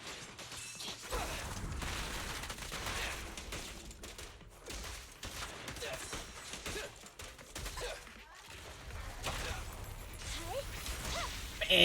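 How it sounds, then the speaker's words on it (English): Rapid gunfire bursts rattle through Zenless Zone Zero combat, mixed with clashing impacts, whooshes and mechanical clatter in a dense, continuous game soundscape. "Just hear rapid gunfire."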